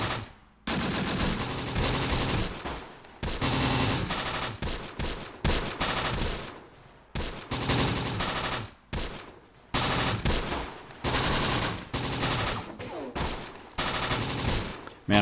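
A .30 cal machine gun in Close Combat: The Bloody First, on a Tunisia battlefield, rattles out long, loud bursts of automatic fire one after another with short gaps between them.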